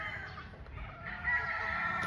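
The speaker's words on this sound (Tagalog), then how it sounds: "Napakagandang manok nito." A Kingslasher gamefowl rooster, a golden-colored bird, crows once at a moderate distance. The drawn-out crow sits over a low rumbling background, and no one speaks.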